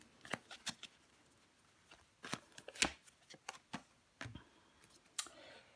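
Tarot cards are laid down on a table one after another in sharp, close, papery slaps and flicks with uneven pauses between them, with no talking.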